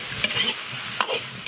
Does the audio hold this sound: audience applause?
no